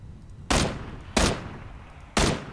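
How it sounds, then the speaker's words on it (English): Gunfire in the video game PUBG: three loud, heavy shots spaced about a second apart, each with a sharp onset and a short rumbling tail, with no talk over them. "we have gunfire southeast now"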